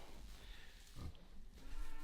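A sow and her nine piglets grunting in their pen, low snuffling grunts close by that swell in the middle and again toward the end over a hazy outdoor background.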